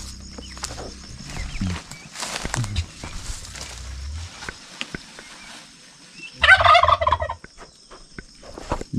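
Turkeys in a pen on a foggy mountain morning gobble in bursts, with one loud, close rattling gobble standing out near the end over scattered clucks and low background noise.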